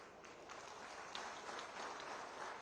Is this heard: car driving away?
no